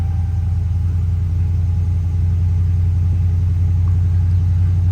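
A Dodge Ram pickup's Hemi V8 engine idles steadily at low pitch after a spark plug replacement, a continuous even rumble that stays constant throughout with nothing else standing out.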